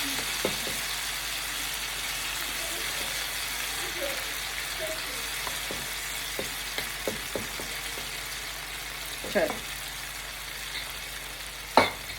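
Chicken pakoras fry in oil with a soft, steady sizzle and scattered bubbling pops, with occasional clinks nearby.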